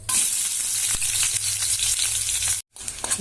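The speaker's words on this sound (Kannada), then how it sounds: "ಇದಕ್ಕೆ ಒಂದು ಉಳ್ಳಾಗಡ್ಡಿನ ಹೆಚ್ಚಿಟ್ಕೊಂಡಿನಿ ಇದಕ್ಕೆ ಹಾಕೊಂಡು" Chopped onion fries in a few spoonfuls of hot oil for sambar, a loud close crackling sizzle with stirring, cut by a brief silent gap near the end before the sizzle resumes.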